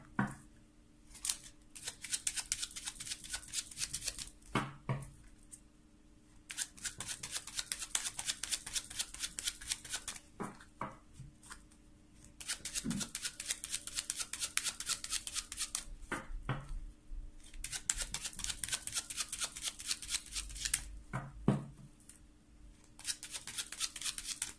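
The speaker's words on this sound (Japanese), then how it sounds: "こちらのカードシャッフルしてます" Tarot cards are shuffled by hand in repeated riffling bursts of crisp, rapid flutters, close and fairly quiet, separated by short pauses and soft taps.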